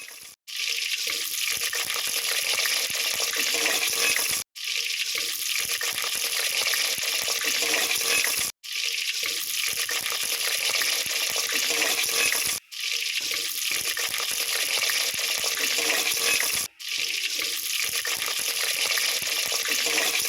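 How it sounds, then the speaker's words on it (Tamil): Mushrooms fry in a pan with sautéed onion and tomato, a steady loud sizzle running throughout, broken by a few brief gaps every four seconds or so. "நம்ம ஆல்ரெடி வேக வச்சு எடுத்து வச்சுருக்க அந்த காளானை இதில் வந்து ஆட் பண்ணிக்கலாம்"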